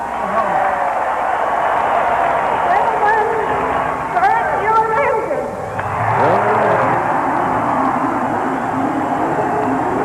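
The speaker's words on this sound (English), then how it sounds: "the sound of the engines dominates the scene now" Race car engines roar together at the start of the 1986 Indy 500, a loud, broad, sustained drone with some rising and falling pitch sweeps, heard alongside voices.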